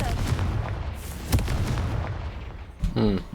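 A Confringo spell blast goes off in the video game Hogwarts Legacy: a loud, booming explosive burst with a sharp crack, over ongoing game ambience. A short voice-like sound follows near the end.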